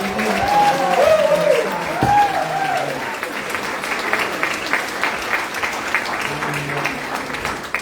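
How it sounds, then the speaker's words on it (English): A room of diners at a Carlow restaurant week dinner gives Eileen a warm round of applause, steady clapping that holds loud for several seconds with a few voices and whoops over it. "I think she deserves a huge round of applause"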